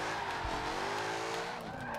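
Sustained tire squeal from a car sliding on the e-brake during a drift in Forza 7, with a Jaguar race engine droning loudly underneath for about two seconds.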